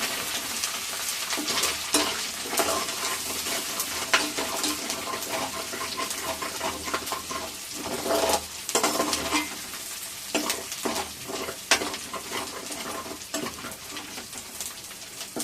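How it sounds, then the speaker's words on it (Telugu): Chopped ginger fries in hot oil while being stirred, a dense, constant close-up sizzle broken by the clatter and scrape of a spoon, with no talk. "కొద్దిగా గోల్డెన్ కలర్ వచ్చే వరకు అల్లాన్ని ఫ్రై చేసుకోవాలి."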